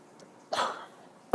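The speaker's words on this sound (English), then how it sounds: "it made me cough" A single sharp cough, close and fairly loud, followed by a brief pause and then a second short, abrupt cough.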